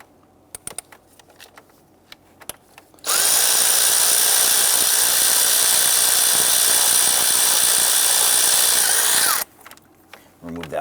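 A power tool runs for about six seconds to loosen an 8mm bolt during spark plug work on a 2011–2019 Ford Explorer with a 3.5L V6, a loud continuous whine that starts and stops abruptly, with faint clicks and handling noises around it.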